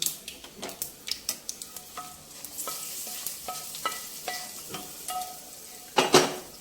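A spoon works fried tempering into gongura chutney, giving a series of close, rhythmic scraping clicks against the bowl with light crackle underneath and a louder rattle near the end.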